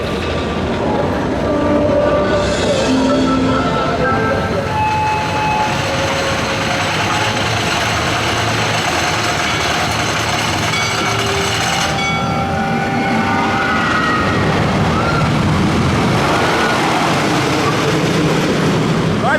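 The Mystic Timbers wooden roller coaster at Kings Island rolls along its track with a loud, continuous rumble and rattling clatter that holds steady from start to finish.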